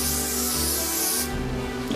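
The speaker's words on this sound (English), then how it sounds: "so just spray the griddle with the pan" Cooking spray hisses from a can onto a kitchen griddle in one continuous, close burst lasting over a second, then trails off into a quieter hiss.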